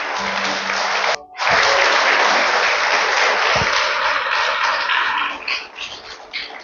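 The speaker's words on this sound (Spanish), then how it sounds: "Dale un fuerte aplauso a Dios." A Sunday church congregation breaks into loud, sustained applause during a sermon. After a brief drop it swells again and then gradually thins out toward the end.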